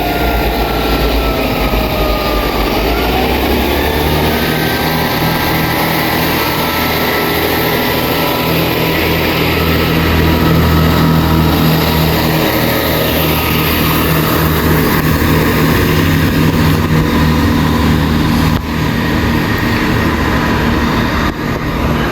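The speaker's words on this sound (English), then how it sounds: "165118 is now departing to continue its journey to Wolverton Centre sidings" A GWR Class 165 diesel multiple unit, 165118, pulls away from Milton Keynes Central station with a steady droning engine note and low rumble that stays loud and continuous throughout, with no talking.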